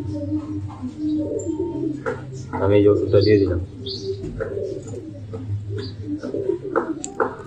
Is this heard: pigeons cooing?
yes